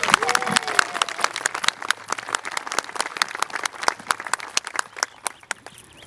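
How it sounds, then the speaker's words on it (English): A ribbon-cutting ceremony crowd gives a round of applause, sparse and uneven claps with distinct individual hand strikes, fairly close, tapering gradually rather than swelling into a dense roar. "So I'd like to give him a round of applause for that."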